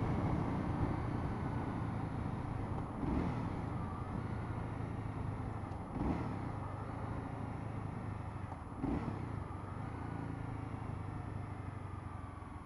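A 2015 Honda CB300F motorcycle accelerates on the road, a steady engine drone with wind noise, broken by three brief dips near 3, 6 and 9 seconds as the rider shifts gears.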